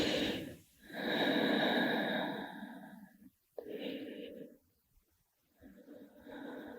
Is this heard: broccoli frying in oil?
no